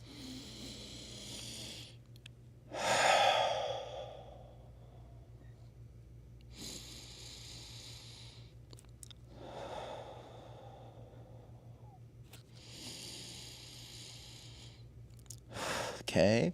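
Heavy, audible breaths during a seated tai chi exercise, with long breathy exhales and inhales spaced apart, close to the microphone against a low steady hum.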